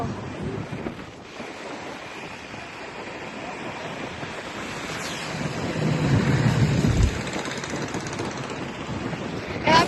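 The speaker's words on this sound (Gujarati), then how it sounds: "સનરૂફમાં મજા આવે આખી હવા આવે" Air rushes loudly through an open car sunroof, a steady windy roar that swells midway, with road rumble underneath.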